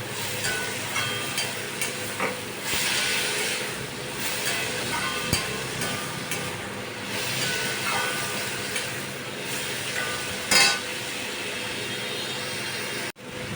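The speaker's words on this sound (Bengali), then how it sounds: "দিয়ে এবার আমি ভালো করে নাড়তে থাকবো" Ash gourd frying in a pan with ginger paste stirred in, a continuous soft sizzle broken by scraping stirs and an occasional light clink of the spoon.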